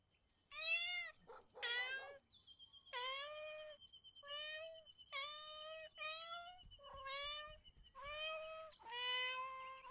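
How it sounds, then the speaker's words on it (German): A cat in the game Copycat meows about nine times in quick succession, clear, close and plaintive, each call short and rising and falling over a quiet background. "Miau, miau,"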